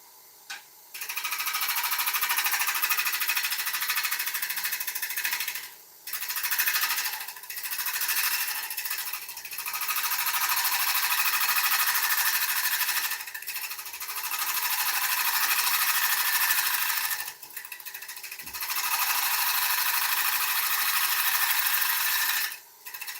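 A woodturning lathe spinning a dieback ash blank at 500 revs, giving a loud steady whir that cuts out briefly several times, then restarts and runs on.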